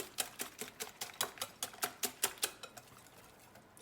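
A whisk beats crepe batter in a bowl, giving a quick, even run of sharp tapping clicks, about four or five a second, close by and fairly quiet, before it slows and fades out.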